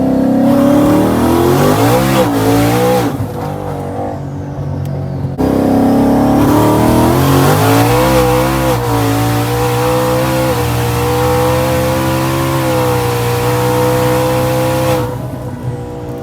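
Turbocharged street car accelerating hard on a street pull, spinning its tires: a loud, sustained engine roar with rising revs, a brief dip in the middle, then a continued strong pull with hissing boost.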